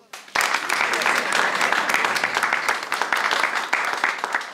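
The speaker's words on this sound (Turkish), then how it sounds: "İlk yarışmacımız Yaprak için alkış alalım." Studio audience bursts into applause for a contestant in a Turkish stand-up competition show, sudden onset then sustained brisk clapping with sharp individual claps standing out.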